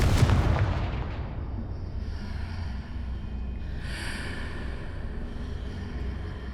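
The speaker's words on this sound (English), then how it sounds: "Confringo!" A loud fiery blast from the Confringo spell in the Hogwarts Legacy video game opens with a heavy boom that rolls off into a sustained rumbling hiss as the fire dies down.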